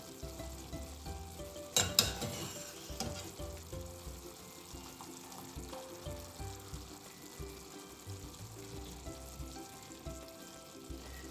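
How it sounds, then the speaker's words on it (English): Pasta tipped into a pan of peas, leeks and smoked pancetta over a lowered flame: a brief clatter and a wet plop, then a steady low sizzle and soft stirring noises. "So we're gonna lower the flame and add the pasta to the peas."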